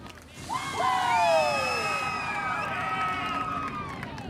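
A crowd at Atomic Speedway cheers and whistles for a late model dirt race winner, with loud rising whoops and whistles over a steady roar of voices.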